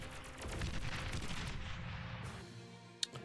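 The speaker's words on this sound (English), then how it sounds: "since they have dual plasma cannons, they're able to shut them down easily with rapid fire" Dual plasma cannons in a video game fire in a rapid, dense burst of blasts that fades out after about two seconds, followed by a single sharp shot.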